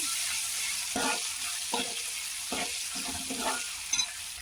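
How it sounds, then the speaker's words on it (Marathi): Ginger-garlic paste sizzles in hot oil with cumin and whole spices in a pan, a steady frying hiss broken by several scraping stirs of a spatula at close range, with no talk. "आपण अद्रक लसूण पेस्ट पण टाकून देऊया आणि असं परतून घेऊ"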